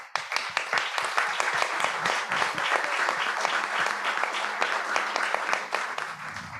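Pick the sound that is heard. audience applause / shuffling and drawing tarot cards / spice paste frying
audience applause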